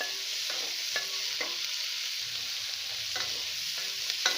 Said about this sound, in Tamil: ஸோ அதையும் ஒரு நிமிஷம் நம்ம நல்லா வதக்கிக்க போகிறோம்.